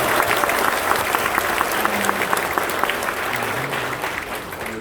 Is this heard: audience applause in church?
yes